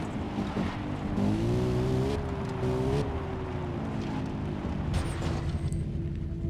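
Car engine in the video game Far Cry 3, a steady droning hum that rises in pitch as it accelerates, with faint game ambience and no talk.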